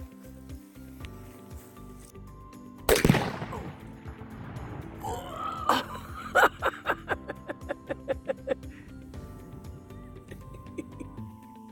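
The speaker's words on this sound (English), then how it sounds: "I'm gonna sneak forward a little bit and take the shot." A .458 SOCOM AR-15 rifle fires a single sharp shot at a hog outdoors, followed by a short stretch of quieter noise, then a quick run of rhythmic chuckling laughter.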